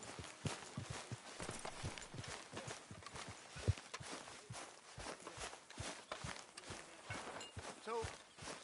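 Horse hooves walking in the video game Red Dead Redemption 2, a faint, steady clip-clop of steps with characters talking alongside.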